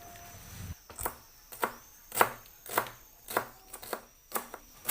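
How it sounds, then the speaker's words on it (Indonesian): Celery leaves being coarsely chopped with a knife on a board: about nine crisp, evenly spaced chops, close and clear, with no talking. "1 batang daun seledri diiris kasar juga."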